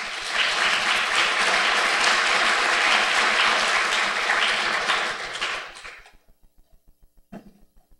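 Loud, dense applause from a convention audience welcoming a keynote speaker, sustained for several seconds before fading out, with a few scattered claps trailing at the end.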